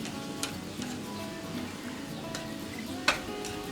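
Termite mushrooms frying in a pan, a soft steady sizzle close by with a few light clicks and taps of a utensil against the pan.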